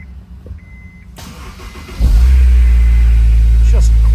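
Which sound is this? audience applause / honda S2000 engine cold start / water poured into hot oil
honda S2000 engine cold start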